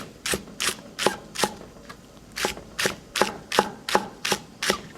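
Kitchen knife chopping green onions quickly on a cutting board, two stalks held together, about a dozen crisp close knocks in a steady rhythm with a brief pause midway.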